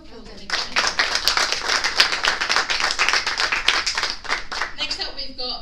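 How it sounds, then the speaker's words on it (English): Evening audience at an accessible-travel event welcomes a speaker with lively applause, rapid overlapping claps building quickly and holding strong for several seconds before thinning out, with some voices mixed in. "A round of applause."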